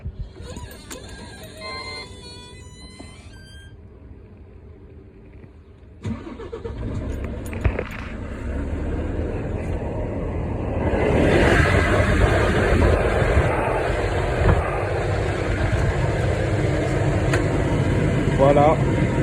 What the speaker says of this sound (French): Maintenant, il va falloir démarrer le moteur.